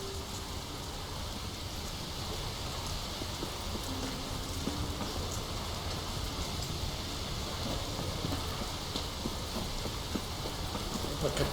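Light drizzle in The Witcher 3: Wild Hunt, a steady soft hiss of fine rain with faint scattered pattering, even and continuous at low volume with no one talking.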